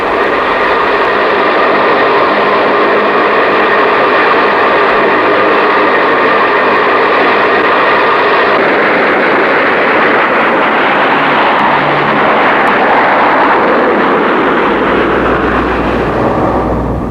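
A large C-130 turboprop plane roars loud and close with a steady, sustained drone of its propeller engines, the tone shifting slightly partway through.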